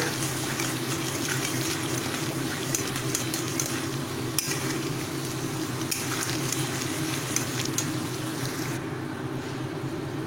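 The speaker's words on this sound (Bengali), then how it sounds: "গ্যাসে কিন্তু মশলাটা কষছে, ভালোভাবে কষবে" Spice paste sautéing in oil in a pan on a gas stove for a paneer dish, a steady close sizzle with scraping stirs throughout, no talk.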